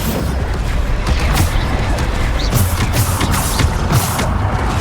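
Bombarda spell blasts going off in Hogwarts Legacy combat, a dense, continuous barrage of booming explosions and crashing impacts layered over loud game noise, with repeated sharp bursts throughout.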